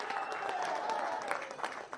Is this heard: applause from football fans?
yes